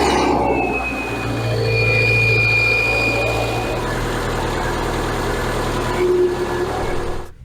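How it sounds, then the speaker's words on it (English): A 2007 Subaru Forester engine idles after starting following a radiator replacement and coolant refill, giving a steady close low rumble with a faint high whine that fades after a few seconds. "Start the car"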